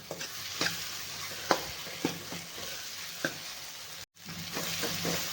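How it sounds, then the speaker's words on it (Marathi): Green chili masala for a stuffed brinjal dish roasting in a pan, with a steady soft sizzle and scattered scraping stirs, one brief dropout near the end; no talking. "आता हे मसाला मी थोडा वेळ आणखीन भाजून घेणार आहे चांगला"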